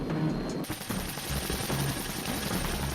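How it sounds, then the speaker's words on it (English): Bell Boeing V-22 Osprey tiltrotor nacelles roaring steadily while blowing away sand in a sandstorm, a loud continuous rotor wash with rhythmic chopping and gritty rushing noise throughout. "The pilots engage the nacelles to blow away the sandstorm."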